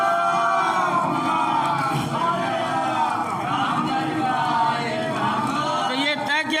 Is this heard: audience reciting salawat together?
yes